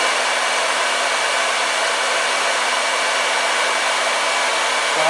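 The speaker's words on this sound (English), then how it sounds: "it's time to go test it with a blow dryer" A hair dryer powered by a portable power station blows with a steady, loud, continuous whoosh that holds an even level throughout, with no voices over it.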